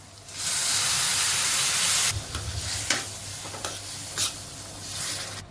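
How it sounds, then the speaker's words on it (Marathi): A loud burst of hissing sizzle as hot water hits roasted semolina in a hot pan, settling into softer bubbling with a few scraping stirs. "एका वाटी रव्याला दीड वाटी गरम पाणी टाकणार आहोत"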